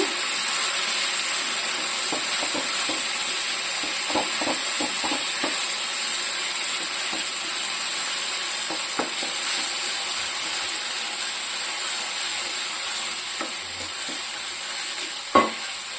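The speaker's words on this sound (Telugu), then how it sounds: "ఎండుమిర్చి పల్లీలు ఉల్లిపాయి ధనియాలు ఇవి ఒకసారి అన్నీ వేసాం కదా ఇందాక దాన్ని మనం ఇలా వేయించుకోవాలన్నమాట" Dry red chillies, peanuts, onion and coriander seeds fry in a pan with a constant bright sizzle and hiss, broken by scattered soft stirring taps and a sharp clink near the end.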